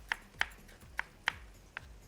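A knife cuts a tomato into thin slices on a board, with five crisp, evenly spaced chops about a third of a second apart, quiet and close, with no talking.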